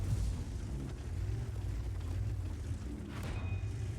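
A World of Tanks tank battle rumbles with heavy cannon-fire booms and low thudding impacts over a steady dense backdrop, with a brief sharper crack near the end.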